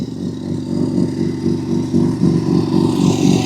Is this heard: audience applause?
no